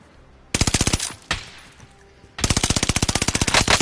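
Rapid automatic gunfire in a video game crackles in two loud bursts, with a single shot between them and a long sustained volley at the end, close and alone without talk.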